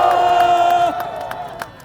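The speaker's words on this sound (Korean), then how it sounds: "다시 한번 박수 부탁드립니다" A crowd at a candlelight protest rally cheers and shouts together, loud voices and whoops that fade after about a second, with scattered claps trailing off.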